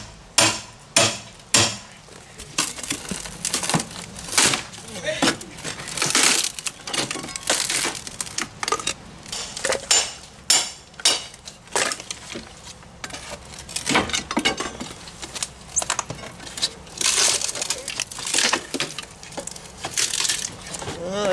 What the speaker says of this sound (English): I always use a bigger hammer.